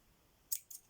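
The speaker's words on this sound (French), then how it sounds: "je vais couper." Two quick snips of scissors cutting linen and lace, crisp and close, spaced a moment apart against a quiet room.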